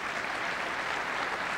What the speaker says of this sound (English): Would you just give me a clap of hands so I can hear?